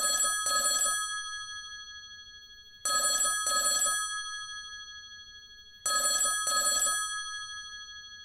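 A telephone rings on an international call dialled from America to the UK, giving three double-burst rings at steady intervals, each pair of bright electronic trills followed by a pause, clear and alone with no voices.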